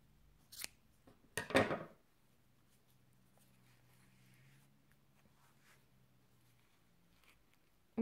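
Scissors snip yarn while a child's beret is knitted, giving two or three short, close, crisp cuts early on, followed by quiet with a faint low hum underneath.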